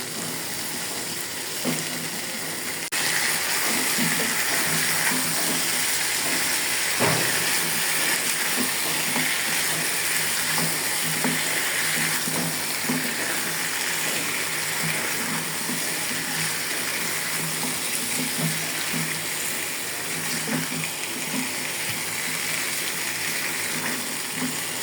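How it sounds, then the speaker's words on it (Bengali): Taro roots stirred into hilsa fish head and tail frying in a pan, giving a steady close sizzle and hiss with light stirring clatter, no talking. "এখন কচুরমুখিগুলো দিয়ে দেবো।"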